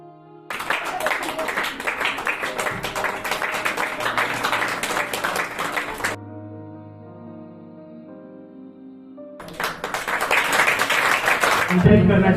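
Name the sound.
audience applause at sewing centre ceremony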